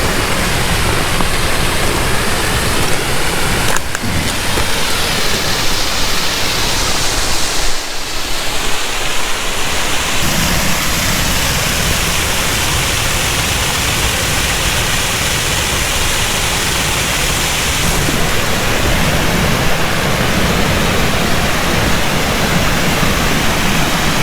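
The waterfall at Potholes Coulee in the Ancient Lakes area roars as a dense, continuous loud rush of falling water, steady for the whole stretch with only slight shifts in tone.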